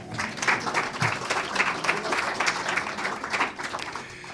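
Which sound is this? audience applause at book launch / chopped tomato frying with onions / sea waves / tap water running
audience applause at book launch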